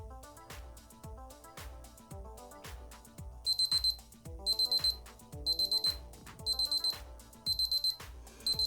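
A Casio Data Bank DB-520 wristwatch timer alarm beeps in quick bursts of four high tones, repeating about once a second, faint and close, over soft rhythmic background clicks.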